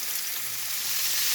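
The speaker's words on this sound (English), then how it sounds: "I will salt and pepper them and just fry them on both sides until both sides are brown" Steak sizzles in a hot pan, a dense, steady crackling hiss heard close and continuous with no voices.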